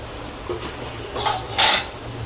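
A lid is set onto a cooking pot of chicken kosha, giving two short, bright metallic clinks close by, the second louder, over a quiet kitchen background.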